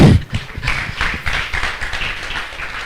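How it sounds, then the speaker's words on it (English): An audience claps at an academic activities exhibition, a steady ripple of many hands applauding close by that fills the moment with a lively, continuous patter. "We can clap more than that."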